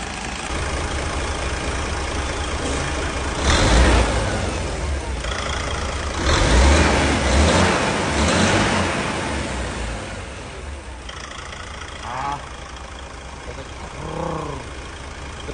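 DAF XF 480 truck diesel engine that had stood for about six months, idling with a deep steady rumble and rising into a few louder revs midway, with faint human sounds near the end.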